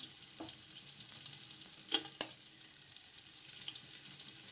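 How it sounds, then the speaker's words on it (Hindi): Onions frying in hot vanaspati ghee in a pot, a soft steady sizzle with a few sharper crackles and stirring taps, fairly quiet and close, no one speaking. "जैसे ही घी गर्म हो जाए तो इसके अंदर प्याज डाल दें।"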